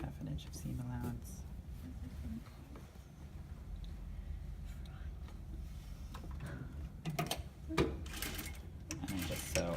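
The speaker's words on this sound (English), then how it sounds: "And I just sew all the way down as if my gote becomes the rest of my seam." A sewing machine stitches down a skirt seam through a dart, a steady mechanical whir and rattle running throughout with louder clattering bursts near the end, while a person talks over it.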